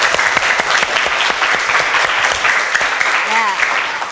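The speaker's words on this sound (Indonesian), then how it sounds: "Aplaus untuk kita semua anak-anak." Schoolchildren in a classroom during a biology lesson break into loud, dense clapping that continues steadily, with a few voices mixed in as it goes on.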